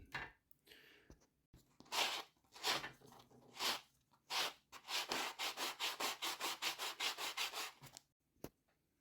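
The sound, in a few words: sanding wood with 80 grit sandpaper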